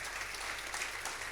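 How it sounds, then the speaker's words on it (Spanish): Church congregation applauding during a sermon, a brief, steady wash of many hands clapping, heard at a distance and fairly faint. "Dale un fuerte aplauso al Señor."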